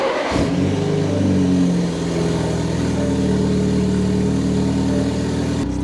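Car engine cold starting, cranking briefly before catching and settling into a loud, rough idle with steady revving, heard close up with no talking.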